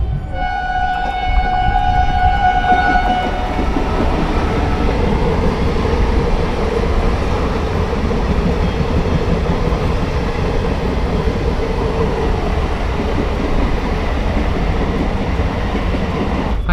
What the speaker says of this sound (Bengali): তারপর আমাদের ট্রেন এখন ছাড়লো